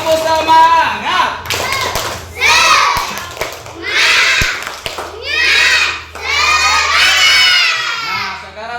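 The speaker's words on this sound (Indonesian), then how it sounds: "Tepuk tangan yang meriah dulu teman-teman semua." Children in a classroom clap and cheer in loud bursts of shouting with rhythmic group clapping, separated by short pauses.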